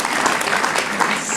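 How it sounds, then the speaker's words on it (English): Audience applause rings out at a live food-science podcast show, a dense, loud burst of clapping filling the short stretch with no voices over it. "Please give us a round of applause."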